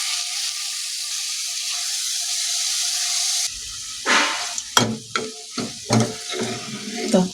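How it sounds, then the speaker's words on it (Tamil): Tomatoes and onions fry in a pan with a steady sizzling hiss that stops abruptly partway, followed by several loud stirring scrapes and clatters with bursts of renewed sizzle. "ஸோ தக்காளி நல்லா வதக்கிடலாம்."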